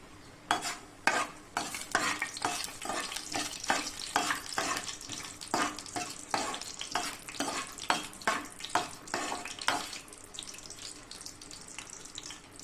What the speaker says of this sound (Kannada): ಎಣ್ಣೆ ಕಾದ್ಮೇಲೆ ಈಗ ಶೇಂಗಾ ಮಿಕ್ಸ್ ಮಾಡೋಣ ಅಂತೀವಿ ಸೊ ಶೇಂಗಾ ಹಾಕೊಂತೀನಿ